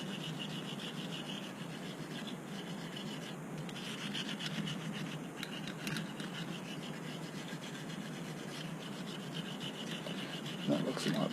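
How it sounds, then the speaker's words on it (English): Small brass brush scrubbing buildup off a revolver, a steady close scratchy rasping that continues without a break, with a light clack near the end. "you can just take a little brass brush and just go across there like that"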